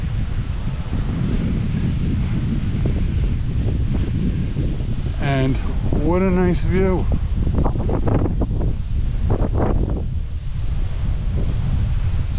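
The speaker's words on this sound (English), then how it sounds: "It's a little windy." Strong wind buffets the microphone beside the water at Bacalar, a constant rushing roar with waves faintly beneath, while a voice speaks briefly partway through.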